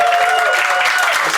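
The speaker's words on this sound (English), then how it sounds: "we should give a round of applause to the opening acts who were on before in the first half" Audience at a comedy show in Helsinki claps loudly and continuously, dense applause from a crowd close by.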